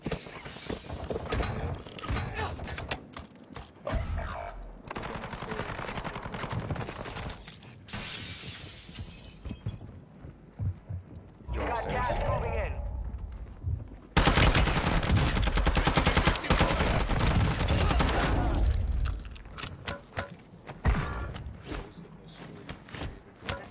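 Video game gunfire crackles in dense, loud bursts and rapid volleys for a long stretch, with shattering impacts and mechanical clatter between them.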